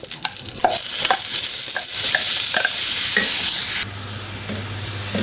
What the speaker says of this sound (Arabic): هنشوح بقى البصل بتاعنا، مش هنحمره، هنخليه بس يدبل كده ويبقى لونه دهبي